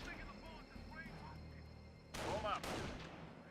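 Bursts of gunfire from the Company of Heroes video game, with Panzer Grenadiers engaging engineers at long range. Scattered faint shots come first, then two louder volleys near the end, all under a low game background with birdlike chirps.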